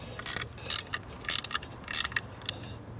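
A ratchet wrench tightens nuts on stainless cooling system parts of a 1971 Dodge L1000 truck, giving five quick bursts of clicking, close and crisp, with quiet pauses between.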